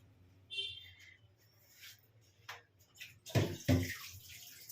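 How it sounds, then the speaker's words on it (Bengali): Water runs briefly from a kitchen tap while hands are washed during breakfast preparation of curd oats with fruit, a short splashing burst near the end after quiet moments of handling. "আমার অনেক রকম আওয়াজ পাবেন, জল হাত ধোয়া"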